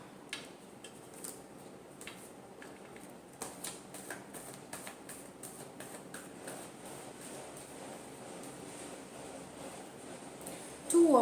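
Tarot cards are shuffled by hand in a quiet room, giving soft, irregular riffling and tapping clicks at low volume, with a brief louder rustle at the end.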